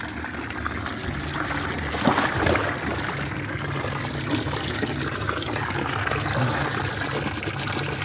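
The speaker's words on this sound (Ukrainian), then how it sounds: "Ось така водичка." Water pours steadily into a wooden plunge tub, a continuous rushing gush with faint splashing that lasts throughout, close by and without speech.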